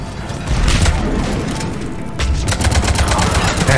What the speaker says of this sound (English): Shoot him in his robot bits.